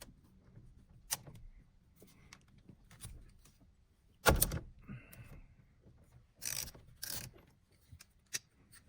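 A large ratchet with a 19mm socket loosening the steering wheel nut, giving sparse clicks and metallic clacks with one louder knock midway and quiet handling noise between, close and alone.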